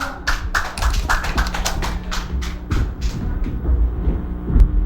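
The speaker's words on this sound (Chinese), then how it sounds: "大家掌声来欣赏" Audience applause for a singer at a Taiwanese-language song show, a steady wash of clapping hands through most of the stretch, thinning out near the end.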